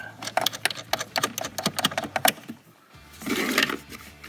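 Rapid ratcheting clicks tighten a battery strap nut on an Aixam microcar, a quick uneven run of close metallic ticks followed by a brief softer rustle.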